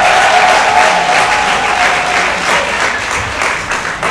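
Wedding guests at a town hall ceremony burst into loud, sustained applause, a dense wash of clapping that carries steadily for several seconds with a faint tonal whistle running through the first half.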